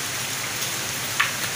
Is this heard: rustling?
no